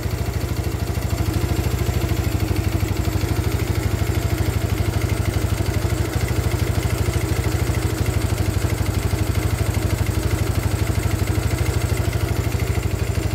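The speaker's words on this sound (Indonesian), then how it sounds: "Ini langsamnya langsung enak Kak Bro. Stasionernya enak ya." Yamaha Mio scooter idling steadily right after a carburetor install, a loud, close, even low putter with a fast regular pulse and no revving, no talking.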